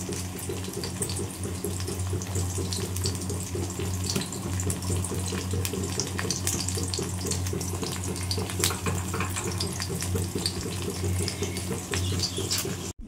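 Shrimp pakoras frying in hot oil, a steady close crackling sizzle with dense bubbling pops that carries on evenly throughout.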